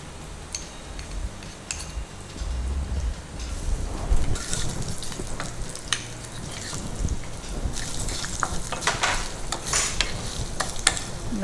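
Ginger hitting hot oil in a pan, sizzling and frying steadily while a spoon stirs and scrapes in irregular bursts, with occasional clinks of utensil against the pan, close and moderately loud.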